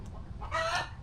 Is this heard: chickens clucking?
yes